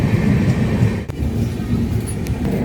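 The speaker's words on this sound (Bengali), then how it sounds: "ট্রেন নাম্বার 13145 রাধিকাপুর এক্সপ্রেস দেখতে পাচ্ছেন।" Indian Railways train 13145 Radhikapur Express rumbling steadily at a station, a continuous low mechanical drone with a faint high squeal near the end, no voices.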